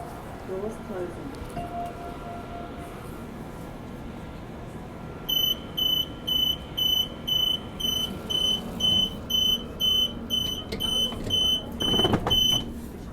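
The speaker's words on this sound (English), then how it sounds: "Doors closing." A Perth train sounds its door-closing warning, a run of evenly spaced, loud electronic beeps that follows a stretch of rumbling carriage noise and ends with a clunk as the doors shut.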